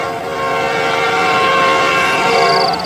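A train coming along a railway track sounds as a loud, continuous rumble with a held horn-like tone rising in intensity, close and unbroken across a few seconds.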